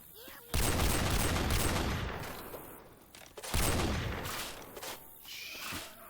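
Ruger rifle mod fired in Left 4 Dead 2 comes as two long, loud bursts of rapid gunfire, each trailing off over a couple of seconds. Faint game voices and ambience fill the gaps.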